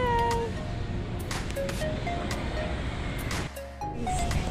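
A cat meows several times in a drawn-out, wavering way amid steady street or outdoor background noise near a bakery, with a brief quieter lull partway through.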